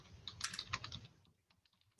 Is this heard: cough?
no